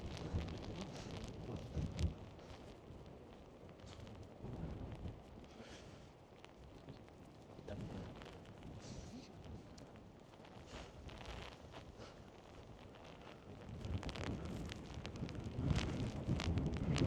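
Gusty 50-mile-an-hour wind in Nuuk, Greenland, batters the microphone with a broad, rumbling roar that swells and eases in irregular surges, with no voices.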